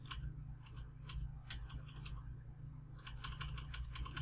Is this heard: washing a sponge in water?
no